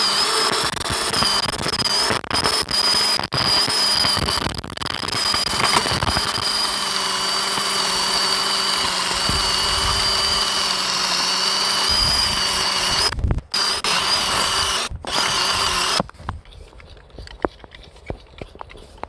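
A tilther garden machine runs at a farm, its drill spinning small teeth through the top soil in a steady buzzing engine drone with knocks and rattles, then the motor cuts out, leaving quiet surroundings.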